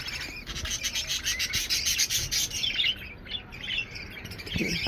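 Budgerigars kept on a city flat balcony chirp and chatter rapidly in a busy, bright flock sound, with scratchy rubbing noises and a quieter stretch near the end.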